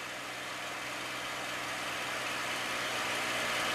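P-51 Mustang piston engine throttled back in flight, a steady, dense droning roar heard from inside the cockpit, constant and even with no talk over it.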